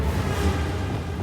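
A fire spell cast in a Hogwarts Legacy battle sends out a steady, dense whooshing roar of magical flame that lasts for about a second, loud and close throughout with no clear break.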